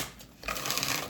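Tarot cards riffled in a brief quick shuffle, a soft papery flutter rising after a moment of quiet, close and on its own.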